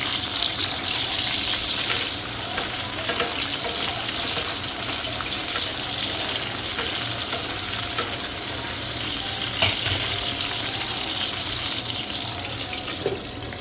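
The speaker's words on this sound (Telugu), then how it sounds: "ఆయిల్ మంచిగా కాగిన తర్వాత ఈ దొండకాయల్ని ఫ్రై చేసుకోవాలి." Ivy gourds (tindora), trimmed at both ends, frying in hot oil in an Andhra-style kitchen, giving a dense, continuous close sizzle and hiss with scattered small pops, loud and unbroken.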